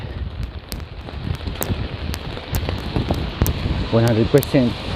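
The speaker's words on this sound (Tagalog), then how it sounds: "so malakas ang ulan ngayon mula pa kagabi" Steady hiss of heavy rain with gusty, windy rumble throughout; a voice briefly speaks near the end.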